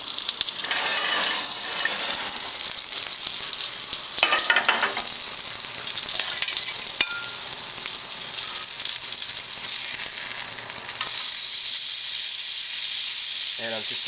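Strip steak sizzling on a hot grill pan, a loud continuous bright hiss and crackle throughout, with brief handling noises and clinks near the end.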